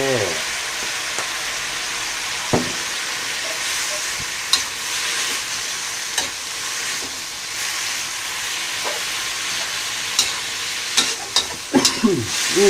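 Crispy pork and chayote shoots stir-fried in a pan, loud continuous sizzling and hiss with repeated spatula scrapes and clinks, heaviest near the end, no speech.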